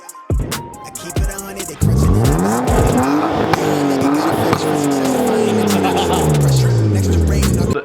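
A BMW E36 drift car revs hard and loud up close, its engine pitch sweeping up and down repeatedly, with tire squeal and skidding running through the sustained roar.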